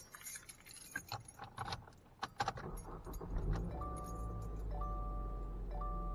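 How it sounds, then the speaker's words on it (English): Car keys jangle as a car engine is cranked during a battery and starting-system test in a workshop lab, then the engine catches and settles into a steady idle hum, with repeated electronic beeps from a tester. "it took 4 seconds for our car to crank over and start the engine"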